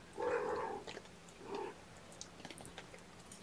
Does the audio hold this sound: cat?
yes